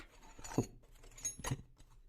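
Metal wrenches in a wrench set sized 8 to 19 clink as the set is opened, two distinct light metallic chinks close by against a quiet background.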